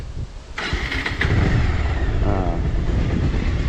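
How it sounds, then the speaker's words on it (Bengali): A motorcycle engine idles steadily after a full engine overhaul, a loud continuous rumble close by that swells as the revs rise and holds at a strong, even level. "বাইকের এখন ইঞ্জিন নোটটাই চেঞ্জ হয়ে গেছে"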